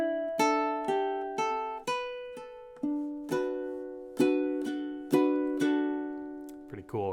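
A ukulele plays a short phrase from a song, a handful of plucked notes and ringing chords with pauses between them, heard up close with nothing else over it.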